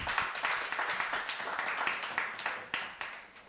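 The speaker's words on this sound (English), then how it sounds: "Please clap for her." Audience clapping at a citizens' assembly on democracy, a steady patter of hands over several seconds with individual claps standing out, fairly soft and fading toward the end.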